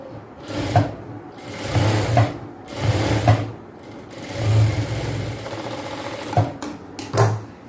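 Sewing machine stitching a chudidhar palazzo pant, running in several loud bursts of steady whirring and rattling with short pauses between runs.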